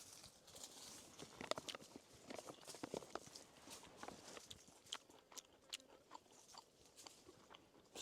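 Someone eats a rehydrated camp meal, with quiet, close crunching and chewing bites in an irregular rhythm and small utensil clicks, faint against a quiet background.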